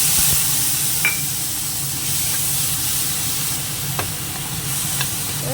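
Dried chillies and onion-tomato paste hit hot oil, producing a strong, continuous hissing sizzle close by, punctuated by a few faint clicks of stirring.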